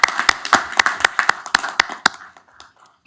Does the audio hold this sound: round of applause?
yes